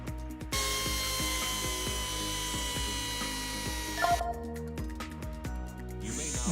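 Simulated bone saw cutting the femur during a virtual-reality knee surgery training exercise, a steady buzzing mechanical drone with rapid regular pulses, briefly interrupted before resuming near the end.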